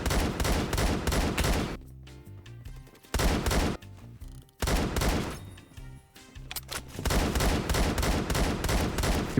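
Bursts of automatic gunfire from a no-recoil rifle in Phantom Forces, loud sustained volleys broken by a few short pauses, with no talking.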